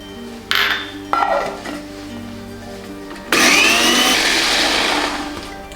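A few clinks and a pour of half a cup of water, then a mixer grinder grinding coconut starts up with a loud whirring drone that runs steadily to the end.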